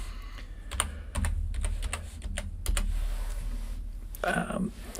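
Quick clattering keystrokes on a computer keyboard, a close burst of taps followed by scattered single clicks, under a steady low hum, with a voice talking partway through.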